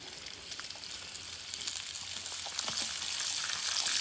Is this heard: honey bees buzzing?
no